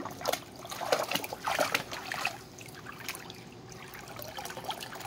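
Water trickles and splashes in short uneven pours at a pool, louder at first, then settling into a faint steady dribble.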